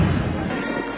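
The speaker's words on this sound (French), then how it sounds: "a eu droit à 21 coups de canon" Ceremonial 21-gun cannon salute fired in honour of Zambia's seventh president at an official military ceremony, heard as a dull, low booming rumble at a distance with crowd noise beneath.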